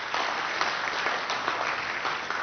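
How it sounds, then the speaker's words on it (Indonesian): A studio audience at an Indonesian televised talk show gives a sustained round of applause, dense, even clapping from many hands with no speech over it. "saya minta tepuk tangan untuk beliau"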